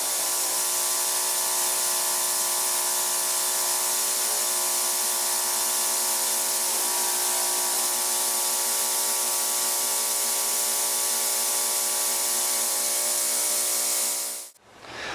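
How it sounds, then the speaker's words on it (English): An ultrasonic cleaning tank runs with a steady, loud hiss and faint buzzing tones that hold constant before cutting off abruptly near the end. "turn the ultrasonic tank on"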